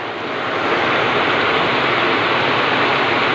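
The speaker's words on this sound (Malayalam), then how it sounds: "നല്ല മഴയാണ് അത് സൗണ്ട് ഇച്ചിരി കുറയും" Steady, dense roar of heavy rain pouring down, loud and continuous throughout with no talking.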